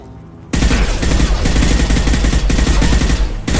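Gunfire in the video game Mass Effect 2: after a brief quieter lead-in, loud sustained bursts of automatic fire and rapid shots crackle densely for about three seconds, close and heavy.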